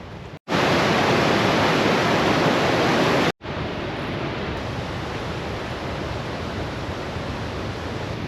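Waterfall in the Rocky Mountains, a loud steady broadband rush of falling water close by, briefly cut twice then continuing slightly softer.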